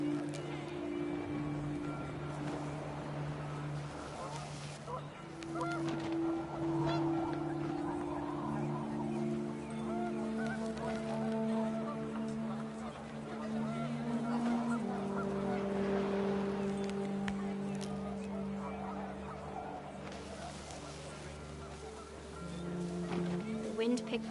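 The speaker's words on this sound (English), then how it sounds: "The wind picked up, and panicked geese appeared and quickly went." Panicked geese honk in the game What Remains of Edith Finch, several overlapping calls under a wind-blown ambient bed with a narrating voice over it.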